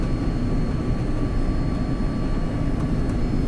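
Steady, unbroken roar of jet airliner cabin noise as the plane descends on approach to Narita, Tokyo, inbound from Kuala Lumpur; a dense, even drone fills the whole stretch with no voices.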